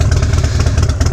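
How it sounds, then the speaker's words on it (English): Motorcycle engine running while riding, picked up through an original J-Car helmet intercom set: a loud, steady low rumble with rhythmic mechanical clatter, close and continuous, no voices. "Just interested to see what the bike noise is coming through there."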